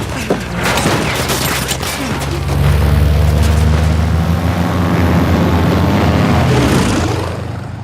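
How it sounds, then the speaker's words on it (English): Airplane engine in the Uncharted 4 video game, a loud sustained low drone that swells around the third second, mixed with booming gunfire and bursts through most of the stretch. "They shot up my goddamn plane, Nate."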